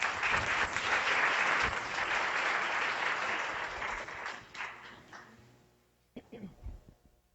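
An audience at a public health lecture claps warmly and densely to welcome Dr. Lydia Ogden, the applause holding steady before thinning and fading out, followed by a few close handling noises.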